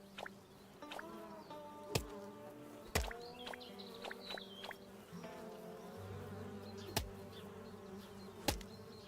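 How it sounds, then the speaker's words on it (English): Bees buzz in the video game Chop Chop Inc, a steady insect drone with scattered sharp game effects and clicks layered over a continuous background score, no voices. "I hear what sounds like bees."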